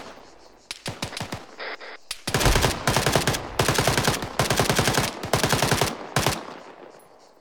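Video game suppressive gunfire in a military squad match, rapid close machine-gun bursts with single shots scattered among them, loud and sustained for several seconds with brief gaps.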